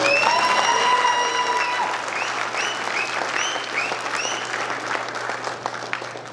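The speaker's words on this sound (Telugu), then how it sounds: "జగన్ బాబుకి ఒక్కసారి గట్టిగా చప్పట్లు ఇవ్వాలి" An audience at the NATA 2018 convention in Philadelphia applauding, a full burst of close clapping from a crowd that fades gradually, with a few high tones ringing out early.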